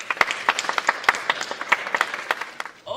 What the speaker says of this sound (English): So let's give them a last applause.